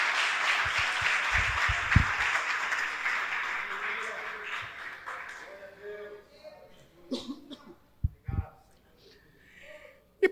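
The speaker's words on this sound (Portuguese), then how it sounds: "Então aplauda ao Senhor." A church congregation applauds in a broad burst of clapping that fades away over several seconds, followed by scattered knocks and murmuring voices in the hall.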